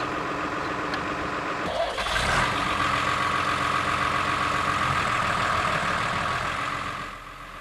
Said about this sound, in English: This Reynolds tractor cutting silage is using a forage cutter.